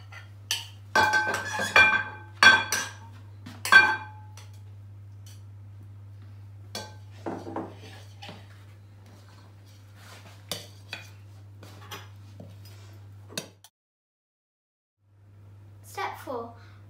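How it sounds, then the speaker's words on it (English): A blunt knife clinks and scrapes against a bowl while mixing butter pieces, giving scattered light taps and clatters close by, mostly at the start, with someone speaking in between. "Put them in a bowl and mix them with a blunt knife."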